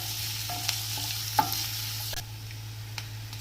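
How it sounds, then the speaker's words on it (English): One medium-sized onion sautés in a pan for fenugreek-leaf sabji, giving a soft, steady sizzle punctuated by a few sharp clicks and scrapes of a spatula stirring it. "So we will saute this until the onion turns translucent."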